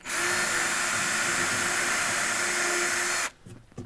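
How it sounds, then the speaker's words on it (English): Power drill boring pilot holes in timber while an old broken spade is repaired, a loud, steady high whir lasting about three seconds that cuts off abruptly, followed by faint handling noise. "I'm going to drill some pilot holes."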